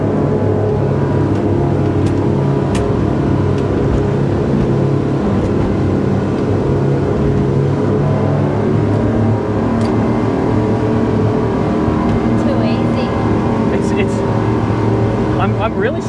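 Powerful engine roar of a SAY 42 speedboat accelerating out of a turn on open water, a loud, continuous drone with steady rumble and wind noise throughout.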